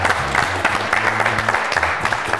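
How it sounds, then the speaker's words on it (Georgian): Applause for the team Akakauri at a student quiz contest, steady clapping spread across the room with a low musical tone running underneath, fairly loud and continuous. "აპლოდისმენტები აკაკაურს."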